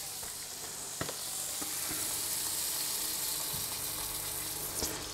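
Frozen salmon fillet searing in hot oil in a pan, giving a steady, moderately loud broadband sizzle with a couple of sharp pops and clicks, no voices.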